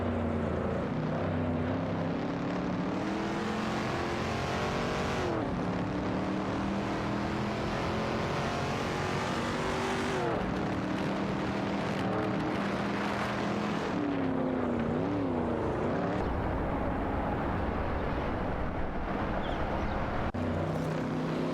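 Several race cars roaring and overtaking in an AI racing video game, engines droning loudly and continuously with pitch sweeps as cars pass, no voices.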